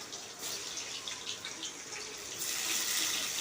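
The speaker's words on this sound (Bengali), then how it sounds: "সিদ্ধ আলুটা একটা একটা করে দিয়ে দিচ্ছি।" Boiled potatoes drop one by one into hot mustard oil for a Bengali alur dum. The result is a close, steady hissing sizzle that grows louder and denser near the end, with no talking.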